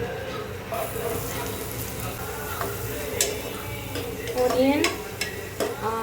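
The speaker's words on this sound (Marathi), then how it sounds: "गोल्डन ब्राउन होईपर्यंत आपण याला फ्राय करायचं आहे" Chopped onion frying with butter and a little oil in a pan for pav bhaji, a steady close sizzle with occasional stirring scrapes, brief utensil ticks, and a swell of crackle near the end.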